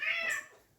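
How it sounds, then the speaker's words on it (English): A house cat gives one short, fairly faint meow nearby, a single rising-then-falling call that fades out within a second. "I don't know if you guys can hear that meowing"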